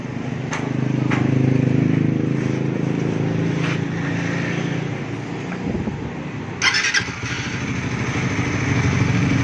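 A 2024 motorcycle engine with a freshly reset cam chain tensioner starts and settles into a steady idle, a continuous close mechanical rumble with a brief clatter partway through.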